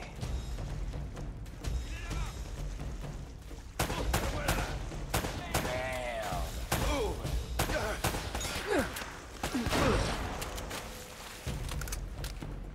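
Gunfire in the video game Uncharted: Drake's Fortune Remastered, including shotgun blasts: a dense run of sharp, loud shots and impacts, with game characters' voices shouting between bursts.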